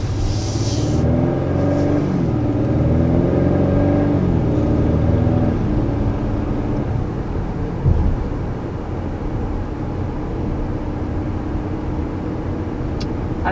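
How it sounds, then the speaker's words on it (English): A 2020 Acura RDX turbo four-cylinder pulls while driving, its engine note rising and dipping through gear changes, then settling into a steady cabin drone with road noise and a brief thump. "It's kind of got like a raspy sound to the Turbo 4."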